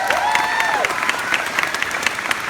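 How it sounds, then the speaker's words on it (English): A convention audience at a London Walker Stalker event applauds in a brief burst of dense clapping, with a few whoops rising over the crowd. "You don't have to clap"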